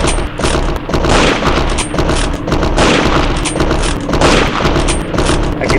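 Loud, dense video game gunfire, booming shots that repeat rapidly and almost continuously with no pauses, close and heavy throughout.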